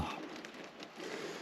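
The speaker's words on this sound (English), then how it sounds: "as you can hear, it's raining" Steady rain falls on the roof of a camper van in Scotland, a soft, even patter of drops heard from inside, faint and continuous with no voices.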